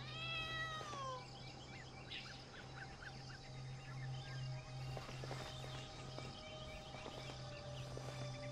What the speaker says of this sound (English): Oh, it's just a little cat.